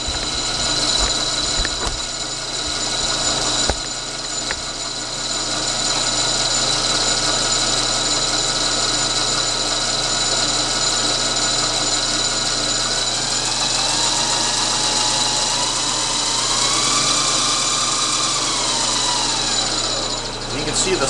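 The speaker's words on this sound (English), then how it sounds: "I'm going to move the camera here and just show the reeve drive in action." The Reeves variable speed drive of a Clausing machine runs with a steady mechanical whir and hum, close and loud. A rising and falling tone partway through suggests a speed change.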